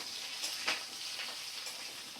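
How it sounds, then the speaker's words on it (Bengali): Eggplant and potato pieces frying in hot oil for a fish curry, giving a faint steady hiss with a couple of soft scraping stirs, close but quiet and without speech. "গরম গরম তেলের মধ্যে সুন্দর করে বেগুন আমি আলু বেগুন ভাজা করে নিচ্ছি"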